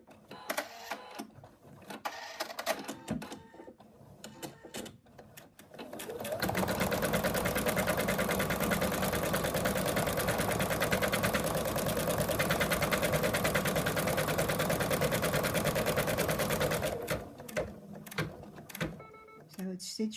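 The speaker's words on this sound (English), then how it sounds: "And then it's going to stitch out the next color" A home embroidery machine stitches the next thread colour of a Monty the Monkey design with a steady, fast, loud mechanical whir that lasts about ten seconds. A person talks before and after the stitching, and brief clicks and handling sounds frame it.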